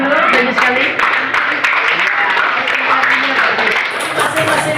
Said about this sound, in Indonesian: Tepuk tangan dulu, banyak sekali.